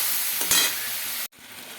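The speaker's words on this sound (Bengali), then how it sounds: "মশলা পেস্ট এই যে এটাকে আমরা দিয়ে দেবো কেটে রাখা টমেটোটা দিয়ে দেবো দিয়ে ভালো করে নাড়িয়ে দেবো" Spice paste and chopped tomato being stirred in a frying pan for a katla fish curry with potato and pointed gourd, a close steady sizzle with a brief stirring scrape, ending abruptly.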